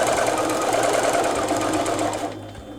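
A sewing machine stitches a Thanksgiving table runner in a fast, steady whirring run up close, then slows and stops.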